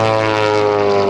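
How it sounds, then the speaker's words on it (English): A propeller aerobatic airplane with four ailerons performs quick rolls at an airshow, its engine a loud, close, sustained buzzing drone with steady harmonics and no pauses. "Very quick rolling airplane."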